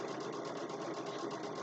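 A sewing machine runs steadily as it stitches fabric onto tape for a zipper bag with French seams, its needle making a fast, even, close mechanical chatter with no pauses.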